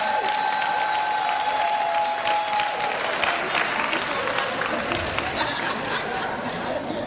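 A church congregation claps together in praise, a dense, loud, sustained wave of applause that fills the room, with some crowd chatter and voices mixed in.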